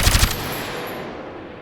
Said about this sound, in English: swap out the reverb tails to make the gunshots feel appropriate whether you're outdoors